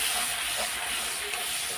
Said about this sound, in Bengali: এই যে হলুদ দিয়ে দিলাম। এবার একটু কষিয়ে নিই।